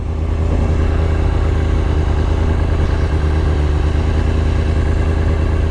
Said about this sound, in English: I'm just keeping the RPMs up a little bit to make sure this thing don't die